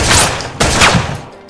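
A fusillade of gunfire from a yakuza action film scene, where Nishi fires shot after shot in a loud, close, echoing burst of overlapping blasts.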